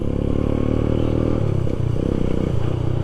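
A motorcycle rides in traffic. Its steady, loud engine drone runs throughout, with some rattling and clatter close by.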